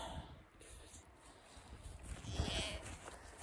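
Goats bleating out on a large pasture with fir and fruit trees, the calls faint and distant over outdoor background noise, with a louder burst near the end.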